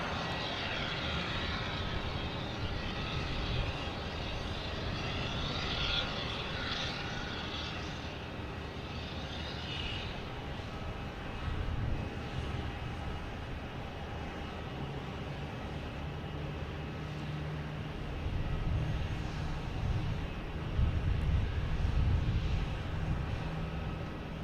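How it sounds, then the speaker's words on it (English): An Air Portugal Airbus A321neo airliner arriving from Lisbon to land at Boston Logan Airport, a steady distant jet engine roar that swells slightly toward the end, with no talking. "Oh, here is Air Portugal coming in from Lisbon,"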